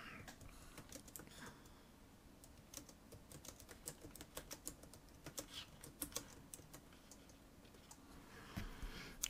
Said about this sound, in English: I'm going to click on the text tool and I'm going to type in my text for here.